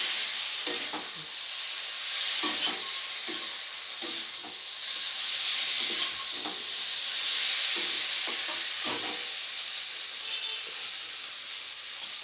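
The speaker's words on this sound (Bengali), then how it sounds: "এবার একটু মশলার সাথে খুব ভালো করে মিশিয়ে নেব আলু আর" Potatoes and chopped tomatoes with spices stirred in a frying pan while cooking a katla fish curry with black cumin paste: steady sizzling hiss throughout with repeated soft scraping strokes of the spatula at an even rhythm, close up, no talking.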